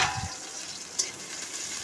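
Chopped garlic with dried and green chillies sizzles steadily in hot mustard oil, a continuous close frying hiss with a brief stir near the start and a small pop midway.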